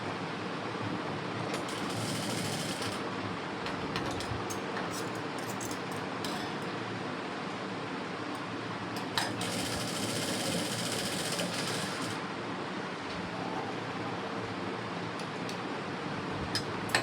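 A sewing machine stitches a blouse seam in a steady, continuous mechanical whir at low level, with a few brief bursts of faster running and no talking.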